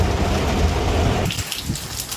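Heavy rain pours steadily as a storm with thunder passes over a house, a dense loud roar that thins and quiets toward the end.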